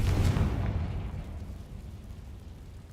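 A deep, rumbling blast from the Confringo spell in a video game bursts loudly at the start, then fades into a low, lingering roar over a few seconds.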